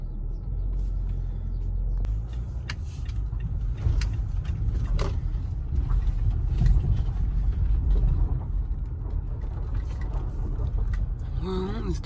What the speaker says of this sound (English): Let's drive for 9 good minutes, y'all.